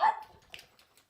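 A dog gives a single short bark up close, followed by a few faint, softer yips trailing off into silence.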